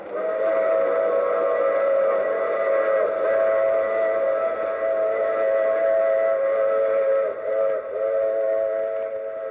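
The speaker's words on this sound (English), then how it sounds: "I take this same train every week at this same time." A steady train sound in an old radio drama, with sustained whistle-like tones holding throughout, loud and continuous with a brief dip near the end.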